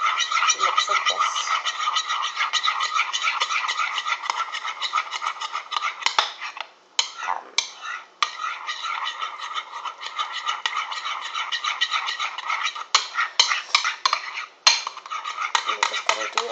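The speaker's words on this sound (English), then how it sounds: "Start mixing again." Snack batter for toddler and baby snacks is mixed in a bowl, giving a steady scraping, clinking whisk-and-bowl rhythm that runs almost the whole time with a few short pauses, close and fairly loud.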